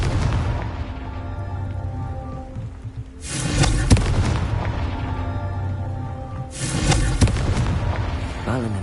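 The Confringo blasting spell goes off in the Hogwarts Legacy video game, two loud booming bursts a few seconds apart over a sustained music and effects bed.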